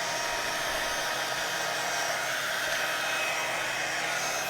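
A heat tool warms embossing paste until it bubbles, giving a continuous, even blowing hiss with no pauses, heard alone at a steady moderate level.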